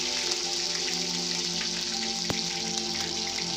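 Garlic paste frying in a wok with whole spices (cinnamon, cloves, cardamom, black pepper), giving a steady, loud, crackling sizzle, with one sharp click midway.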